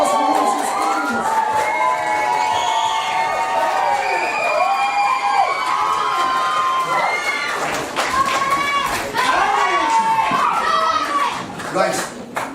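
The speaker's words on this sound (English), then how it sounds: "Round of applause for Wolves and Spoons." A lively audience of children at a Beauty and the Beast show cheers and shouts loudly, with scattered clapping mixed into the continuous excited crowd noise.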